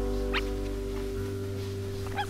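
Young badgers kept in a shelter let out a few short, high whimpers, one early and a couple near the end, over a steady low mechanical hum.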